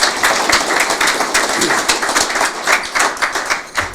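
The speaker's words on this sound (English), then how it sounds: "can we give everyone a round of applause for lunch and putting on this event today" Audience at a building tech and compliance event giving a round of applause, a close, loud patter of individual hand claps with a bright, uneven rhythm from a modest crowd.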